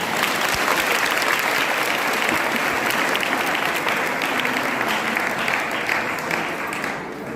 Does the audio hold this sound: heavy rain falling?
no